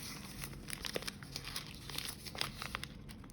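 Paper crinkles and crackles close by as it is folded and creased, with a steady stream of soft rustles and sharper crisp snaps.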